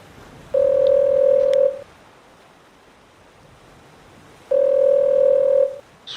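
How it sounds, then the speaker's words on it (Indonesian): A desk telephone rings in a sound effect. Two long, steady electronic tones, each lasting just over a second, are separated by a pause of a few seconds over a faint background hiss. "Suara telepon di meja kerjaku berdering dikala aku lagi pusing-pusingnya karena banyaknya pekerjaan yang harus diselesaikan"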